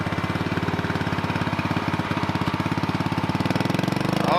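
A dirt bike engine runs in mud with a rapid, pulsing mid-pitched chug that stays steady and close, then revs up near the end.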